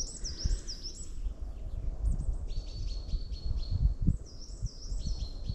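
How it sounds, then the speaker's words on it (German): Several birds chirp and trill in a floodplain forest, repeated high tweets and short phrases over a soft rustling woodland background at moderate distance. "Und die Vögel zwitschern im Auenwald."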